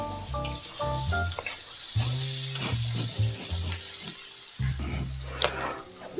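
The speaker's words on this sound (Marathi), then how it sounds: "अर्धा टमॅटो ॲड करून घेऊया त्याच्यामध्ये टोमॅटो आपल्याला छान परतून घ्यायचा आहे" A halved tomato sautés in a pan for spring onion bhaji, giving a steady sizzle throughout, with tonal music running beneath it.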